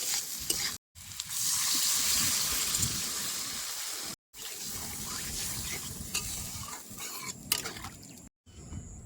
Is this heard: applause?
no